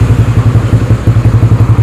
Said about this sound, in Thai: ก็เลยสตาร์ทเท้าไว้ก่อน เครื่องยนต์ติดแล้วครับ